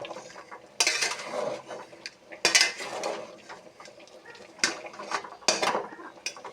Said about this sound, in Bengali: এখন নেড়ে দিচ্ছি।